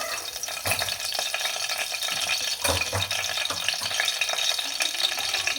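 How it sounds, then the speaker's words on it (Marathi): Bay leaf and whole spices (cloves, black peppercorns, a piece of cinnamon) frying in hot oil in a pressure cooker for masala rice, giving a close, steady crackling sizzle with a few sharper pops. "आता तेल गरम झालं की तेजपत्ता"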